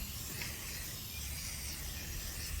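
Spray paint hisses continuously from an aerosol can onto a plastic toy tote outdoors, a close, steady broadband spray with wind buffeting, sustained throughout without pauses.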